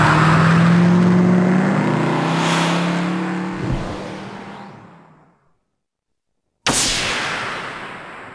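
A fast, armed car in the 1998 PlayStation game Auto Destruct: a loud, close engine roars and revs, then fades away to silence, and a second sharp burst of engine noise cuts in near the end.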